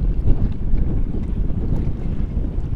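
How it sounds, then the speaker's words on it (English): Gusty wind on the water at a marina on Moriches Bay during an evening sailboat race, a steady loud rumble buffeting the microphone with no voices. "it's pretty gusty right now"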